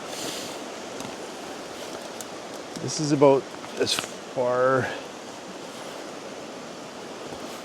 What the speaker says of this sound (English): What a beautiful creek, eh?